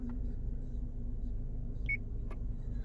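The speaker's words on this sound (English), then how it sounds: "hopefully you heard that little beep" A single short, faint electronic beep sounds inside a 2020 Subaru Forester as the lane departure warning is switched off, heard over a low, steady engine rumble.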